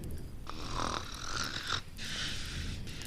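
Snoring rasps steadily at a campsite on a rainy night, rough rattling breaths rising and falling close by with no talking.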